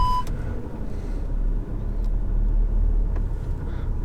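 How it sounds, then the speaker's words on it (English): A car engine idles with a low, steady rumble up close, with a brief beep at the start and a faint click or two as the vehicle shifts and moves, and no talking. "Got in the car, turned it on, backed out, pulled right back in."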